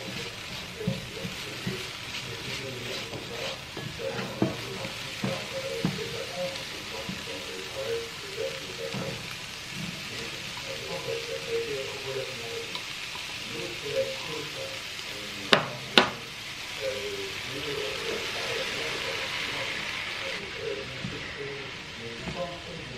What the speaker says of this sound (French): Je vais déjà, dans un premier temps, faire cuire mes courgettes, mes oignons.